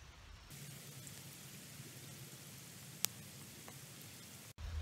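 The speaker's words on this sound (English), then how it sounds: "And it's raining, beautiful." Steady rain hiss falls over a lake swim at a carp fishing spot, a broad continuous wash of drops with a low rumble underneath and one brief sharp click near the end; no one talks.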